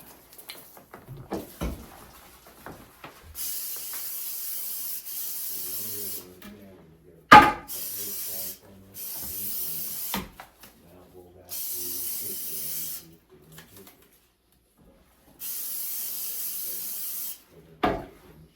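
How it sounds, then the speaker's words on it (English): Several long hissing bursts of Lysol disinfectant spray over a toilet, separated by pauses and a few soft clunks and rustles. "we spray Lysol over the toilet"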